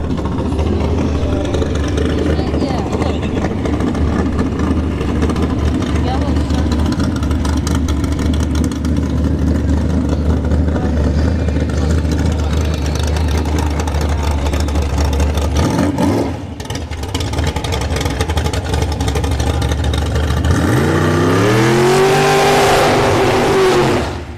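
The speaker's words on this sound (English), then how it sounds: "Alright, we got the dragster coming out." A dragster idles and revs at the Bradenton Motorsports Park drag strip, a loud continuous engine roar that swells near the end into rising, sweeping revs.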